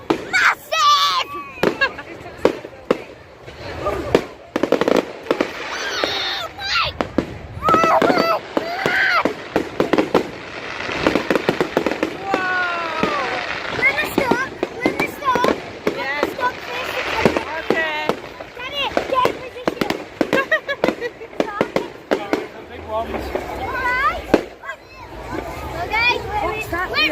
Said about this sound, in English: These fireworks are big, guys.